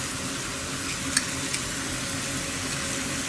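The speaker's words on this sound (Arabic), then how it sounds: "الحين أضيف الثوم المهروس، بضيف بس فصين ثوم." Two cloves of crushed garlic fry in a pan, giving a continuous close sizzle with a couple of light clicks of stirring against the pan.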